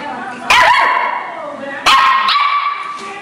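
A dog barks twice up close, sharp loud yelps with whiny, ringing tails, and a fainter yip between them.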